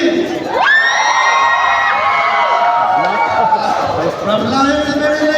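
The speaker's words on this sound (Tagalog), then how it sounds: "sa tingin niyo po, kung sino mas malakas ang sigaw dito" A crowd at an MMA championship event cheers, shouts and whoops loudly in support of the Team Lakay fighter, a dense, sustained roar of voices between rounds.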